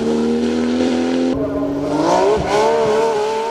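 Porsche 997 GT2 racing car at a hill climb, a loud close engine roaring hard under acceleration, with a sharp gear change midway and the pitch climbing again as it pulls away.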